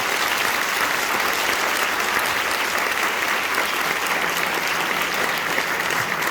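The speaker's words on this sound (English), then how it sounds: "So please give a round of applause to them as a whole." Steady applause from a high school audience at an end-of-year concert, dense and even throughout at a constant level, with no voices rising above it.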